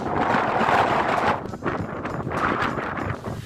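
Strong gusting wind buffets the microphone outside Ourém Castle in Portugal, a loud continuous roar that swells and briefly dips before surging again.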